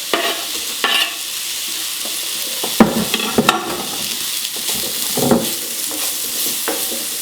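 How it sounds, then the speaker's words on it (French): Courgettes frying with lardons in a pan, a steady close sizzle with occasional stirring scrapes and clicks, no voices. "je fais cuire les courgettes avant pour que le goût il soit aussi dans les courgettes, le goût des lardons"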